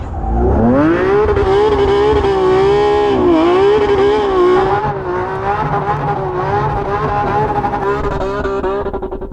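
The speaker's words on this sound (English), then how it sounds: "I'm just going to quickly drive it there to warm up my tyres" A supercar engine drives off to warm its tyres, revving hard and loud with a rising, wavering pitch that holds through the whole stretch, close by and with no talking.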